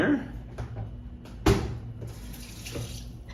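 Tap water runs into a blender jar being rinsed at a kitchen sink, a steady splashing flow with a few sharper clunks of the jar against the basin.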